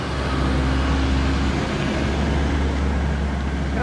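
A car engine labors under load on an uphill climb in the rain, a steady low roar with broadband road and rain noise, no voices.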